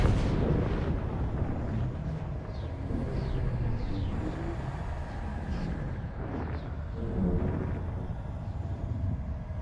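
Heavy gunfire in Elite Dangerous: Odyssey booms and rumbles continuously, dense and loud across the whole stretch, with no voices over it.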